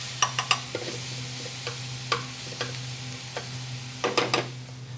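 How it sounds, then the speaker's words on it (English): Onions cook in a pan over medium heat with a soft background sizzle, punctuated by several sharp clinks and scrapes from stirring, close and without talking. "Now while the onions are cooking,"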